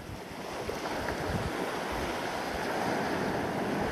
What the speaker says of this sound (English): This is virtually the next beach on from Browns.